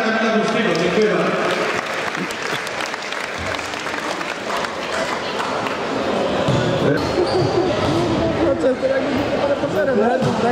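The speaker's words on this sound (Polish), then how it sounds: "Oklaski dla Kamila Górskiego" Sustained applause from the crowd at a Łowicz charity auction event honoring Kamil Górski, steady and dense throughout, with speech and babble mixed in under the clapping.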